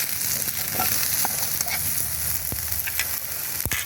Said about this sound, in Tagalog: I-fry lang natin ito konti.